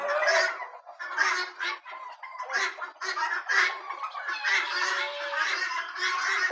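Several free-range country chickens, including Kadaknath, cluck and squawk repeatedly at close range, their calls overlapping in an irregular, busy stream with a few brief gaps.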